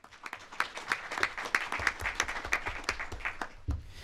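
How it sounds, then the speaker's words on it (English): Audience applause at a student staff recognition event, a moderately distant round of clapping with distinct individual claps, continuous for several seconds. "Give her a round of applause"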